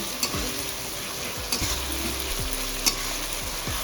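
Stingray pieces stir-fried with ginger-garlic paste in a hot pan, a steady sizzle broken by repeated scrapes and clinks of the spatula, close and fairly loud with no talking.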